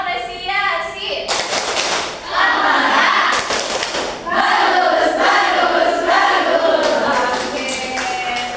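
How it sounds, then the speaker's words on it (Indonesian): Elementary classroom of sixth graders doing a rhythmic appreciation clap together, bursts of patterned hand clapping mixed with children's chanting and shouting, loud and close. "Oke, tepuk tangan."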